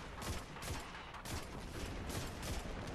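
Rapid, sustained gunfire from a Destiny 2 battle, dense bursts of shots rattling continuously and loudly with no pauses, filling the scene without any talk.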